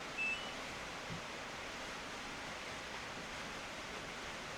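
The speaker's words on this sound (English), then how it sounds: "that would be the rainstorm that I've got going on right now, beating on the metal roof of the barn." A rainstorm beats on the metal roof of a barn, a faint, steady, even hiss of rain with no distinct drops or pauses and no voices.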